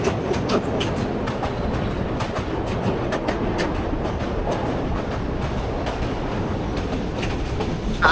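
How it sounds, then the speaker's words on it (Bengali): The Mahanagar Provati passenger train pulls into Bhairab Bazar station, a loud, steady rumble of railcars with faint wheel clatter running throughout. "এই মাত্র ট্রেনটি ভৈরব বাজারে এসে থামলো"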